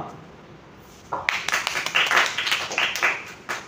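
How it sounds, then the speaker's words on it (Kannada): An audience at a Kannada school stage program claps for students after their speeches; a quiet lull gives way to a burst of close, brisk hand-clapping from a small group that fades and ends with a final few claps. "ಈ ಎಲ್ಲ ವಿದ್ಯಾರ್ಥಿಗಳಿಗಾಗಿ ನಾವು ಜೋರಾಗಿ ಚಪ್ಪಾಳೆ ಹೊಡೆಯೋಣ"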